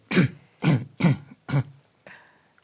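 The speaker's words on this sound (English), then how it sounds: "Got to clear my throat here." A person clears their throat several times in short, rough bursts, followed by a fainter breathy rasp.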